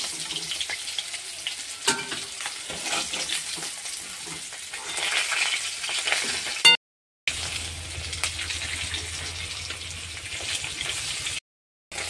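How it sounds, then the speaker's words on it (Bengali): Fish sizzles steadily in hot oil in a pan, a continuous crackling hiss with occasional stirring, broken by two short silent gaps. "মাছটা ভাজা হয়ে গেছে, এবার তুলে নেব।"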